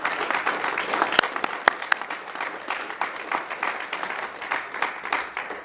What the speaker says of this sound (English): How about a round of applause for these Creighton students right here?